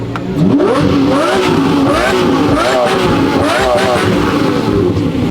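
A loud Lamborghini Murcielago engine revs repeatedly, pitch rising and falling, with people shouting over it.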